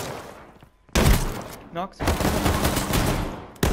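AR rifle fire in the H1Z1 battle royale video game comes in loud, dense bursts after a quiet moment, with players' voices talking over the shooting.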